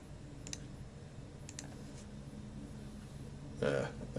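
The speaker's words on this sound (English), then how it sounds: "Let's type in the model number." Soft taps of a model number being typed on a phone, a few scattered clicks in quiet room tone, followed by a brief louder rustle.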